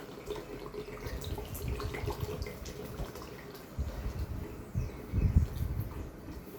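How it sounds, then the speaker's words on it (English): Evaporated milk pouring into a pot, a soft continuous liquid splashing and gurgling up close that swells louder toward the end, with no talking. "I'll add the evaporated milk."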